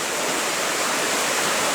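A creek flows steadily nearby, a dense, loud, even rush of water with no breaks and no voices.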